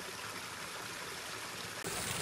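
Waterfall on the Levada do Paul walking trail on Madeira, a steady broadband rush of falling water heard up close and continuous, with no voices.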